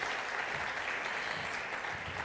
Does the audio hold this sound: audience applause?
yes